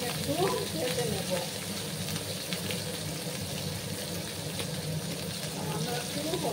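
Dried loitta fish (Bombay duck) fries in a pan with a continuous, close sizzle and some watery crackling, broken now and then by the scrape of stirring.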